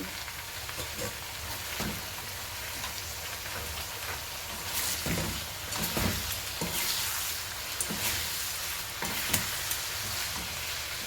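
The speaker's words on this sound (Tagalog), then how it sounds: "So, ilagay naman na natin ang ating shrimp na pinakuluan kanina." Drained, pre-boiled shrimp tossed into melted butter in a pan, crackling and sizzling steadily with bursts of stirring and spattering as the shrimp settle in, no talk.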